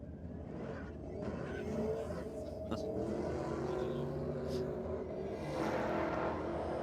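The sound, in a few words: Caprice drag racing car engine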